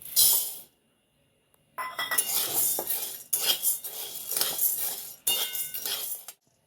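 Chana dal being dry-roasted and stirred in a pan, a close, crisp rattle of dry lentils and a scraping utensil in several bursts separated by short pauses.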